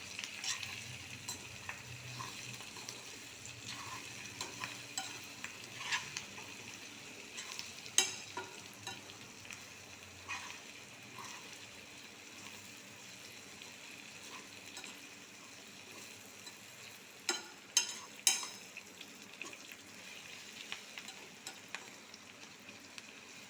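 Food frying in a small amount of oil in a pan, a faint, steady sizzle with occasional louder crackles and spatters, heard alone without speech.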